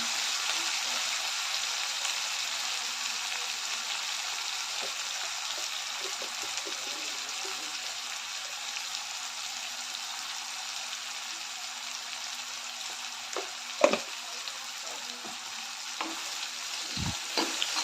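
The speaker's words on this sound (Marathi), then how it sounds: "कांदा टोमॅटो चांगलं परतून घेते" Onion and tomato stir-frying in a pan, a continuous broad sizzle with occasional spoon scrapes and knocks, one louder clank near the end.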